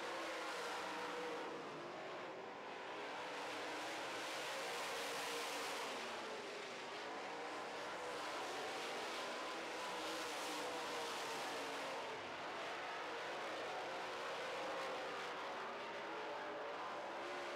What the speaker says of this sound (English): White flag is out for your race leader, Troy Schill.